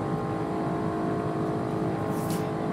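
In BeamNG.drive, a high-horsepower car holds a steady, dense engine roar as it strains slowly toward top speed, with no talking over it.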